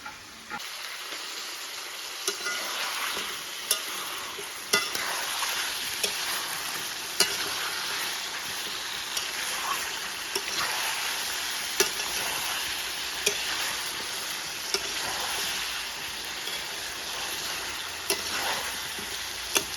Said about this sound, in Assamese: আলু দিওঁতি এতিয়া আকৌ দি দিম নিমখ সোৱাদ অনুসৰি দি দিছোঁ এতিয়া আকৌবাৰ ভাজি লগাইছোঁ